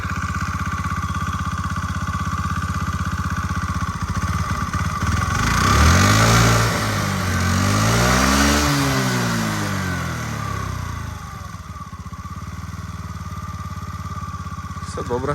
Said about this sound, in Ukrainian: Чистенька, тихенька робота двигунчика